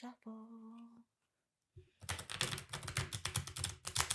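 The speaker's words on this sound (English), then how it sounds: "you are going to shuffle the cards again" A brief tone and short pause, then a rapid, papery riffling of cards being shuffled close by, repeated in quick bursts.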